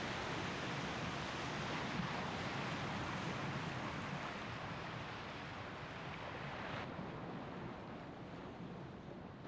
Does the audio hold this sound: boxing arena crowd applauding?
no